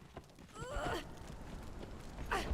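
Horse in the video game Conan Exiles gives a clear whinny that rises and falls, then a second neigh near the end, with faint hoof clops under a low background hum.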